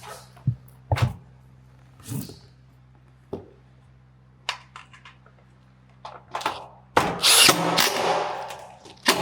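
Impact driver bursts sinking screws into the wooden staves of a panoramic barrel sauna, a string of short separate whirs and clunks with one longer, louder drive near the end over a steady low hum.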